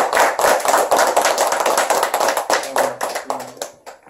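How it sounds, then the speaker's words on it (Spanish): Dense audience applause for a maestro at a salsa music gathering, loud and continuous for a few seconds, then thinning and fading out, with a faint tonal voice near the end. "Un aplauso para el maestro."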